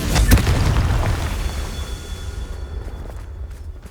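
A Confringo spell goes off in the video game Hogwarts Legacy as a loud, deep explosive boom at the start, then a rumbling blast that slowly fades with scattered crackles.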